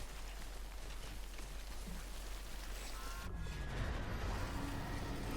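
Timefall rain in the video game Death Stranding hisses as a steady broadband downpour, with a sudden shift in texture partway through and a low rumbling underneath.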